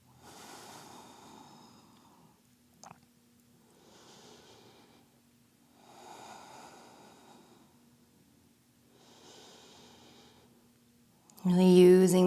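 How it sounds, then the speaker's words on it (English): Slow, deep breaths during a yoga flow, four long inhale-exhale cycles evenly spaced and close, with a soft hiss of air and a louder burst at the end. "and breathe"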